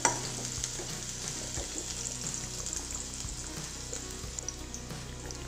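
Onion fries in leftover oil in a pan: a continuous close sizzle with occasional stirring scrapes and soft knocks, quiet and steady, with no voices.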